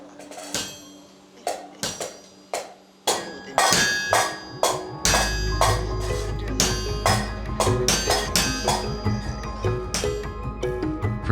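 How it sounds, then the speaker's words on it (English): Hammer strikes on copper ring out one after another at a blacksmith's in Kashgar's bazaar, sharp and close, starting sparse then speeding into a steady clanging rhythm over a low hum. "Follow the sound of a hammer, and you'll find the blacksmiths of the Kontumen Bazaar."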